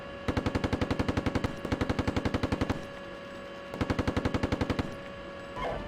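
Machine-gun fire in the tank simulation game Steel Beasts Pro: three sustained bursts of rapid, evenly spaced shots, each lasting about a second, loud and close with no talking over them.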